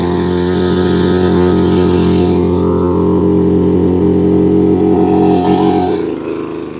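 Small engine of an agricultural sprayer machine running just after being started: a loud, close, buzzing idle with a steady droning tone that shifts pitch slightly as the throttle changes, then drops away near the end, with no talking.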